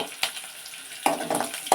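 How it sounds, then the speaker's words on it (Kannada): Food frying in a little oil for a village-style brinjal palya gives a soft, steady sizzle broken by a few sharper bursts as it is stirred in the pan. "ಹೆಸರು ಬಿಚ್ಕೊಳ್ಳಂತ ಸ್ವಲ್ಪ ಎಣ್ಣೆಯಲ್ಲಿ ಕರಿತಾ ಇದ್ದೀನಿ."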